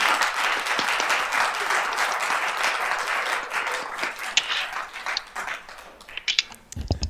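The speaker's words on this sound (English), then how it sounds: "the least we can do is give you a round of applause while you're here in chamber" Applause fills a city council chamber during a public meeting, a dense wash of many hands clapping steadily at close range before thinning out toward the end.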